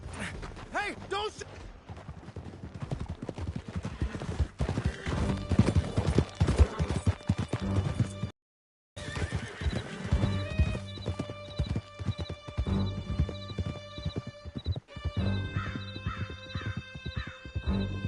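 Horses galloping in the video game Red Dead Redemption, rhythmic hoofbeats with whinnies under a musical score, broken by a brief silence before the riding and music resume.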